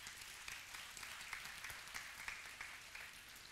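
Audience applause for Matteo Croce at the finale of an equestrian show, a steady, fairly faint patter of many hands clapping throughout, with a few sharper individual claps near the end.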